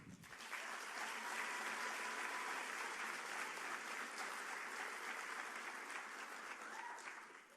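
An audience at a university commencement applauds steadily and loudly for about seven seconds, a dense, even wash of clapping with no talk over it.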